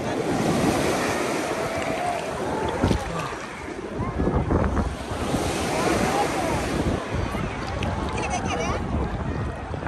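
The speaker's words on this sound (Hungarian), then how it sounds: "Azt nézzétek, mi a hullám." Ocean waves break and wash continuously onto a Turkish seaside beach, with gusts of wind buffeting the microphone and faint voices in the background.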